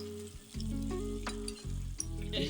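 Dried fish sizzles steadily as it fries in oil in a pan, a close, continuous crackling hiss with brief clinks of stirring.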